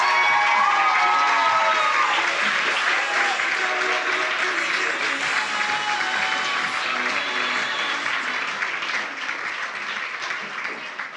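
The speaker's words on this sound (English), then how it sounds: "let's give them all one big round of applause" A large crowd at a community Funfest ambassador coronation claps loudly and steadily, with some cheering and whoops mixed in, the applause gradually easing over its length.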